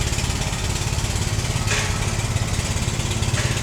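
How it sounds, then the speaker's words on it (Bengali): A trawler boat's engine on the Turag river in Mirpur, a loud, steady, rapid chugging that runs close and unbroken throughout, with no voices. "দেখেন এর পিছনে আবার আরো দুইটা ট্রলার একটা লঞ্চ আসতেছে।"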